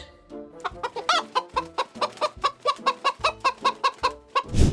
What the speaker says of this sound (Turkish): Tavuklar gıt gıt diye ses çıkarır.